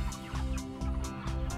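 Chickens in an indoor poultry house on a Kentucky farm make a dense, continuous clucking and gobbling din, with sharp calls rising repeatedly over steady background noise.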